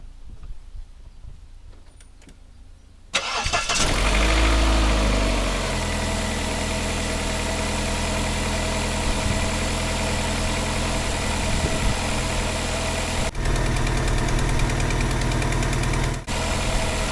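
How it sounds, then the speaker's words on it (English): A Vauxhall Cavalier X20XEV engine cold-starts, cranking and catching after a quiet moment, then settles into a smooth, steady idle with no ticking after exhaust manifold gasket and rear silencer replacement, close and loud. "Cold start, that's a nice smooth running engine with no silly ticking."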